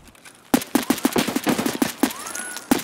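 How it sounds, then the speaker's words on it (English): Rapid gunfire in the shooter game Escape from Tarkov: a burst of about a dozen loud, close shots in quick irregular succession after a brief quiet start, with a ricochet-like whine near the end. "some shots to our left"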